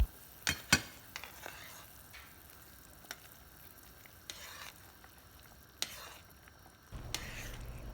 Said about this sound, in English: Mix this very well to avoid lumps.